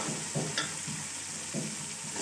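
Coarsely pounded garam masala spices fry in a pot for a chicken pulao, making a steady sizzle with soft rhythmic stirring scrapes and one brief metallic clink.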